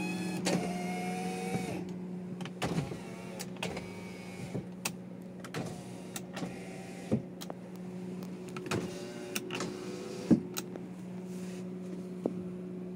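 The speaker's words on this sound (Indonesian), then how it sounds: "AC dingin cek power windows" Power windows in a Daihatsu All New Xenia sliding up and down, motor whines with a steady hum, punctuated by sharp clicks and thumps as the glass stops, recorded close inside the quiet cabin.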